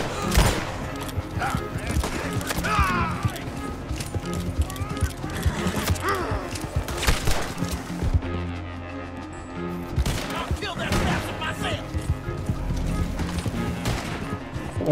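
Video game gunfire from Red Dead Redemption 2 rings out in repeated bursts of shots amid hoofbeats and horse sounds, with someone talking over the action throughout.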